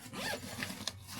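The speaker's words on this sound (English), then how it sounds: "This front zipper pouch here." A zipper pulled along the front pouch of a Veto Pro Pac HVAC tool bag, one quick close zip with a sharper snag near the end, heard up close with no talking.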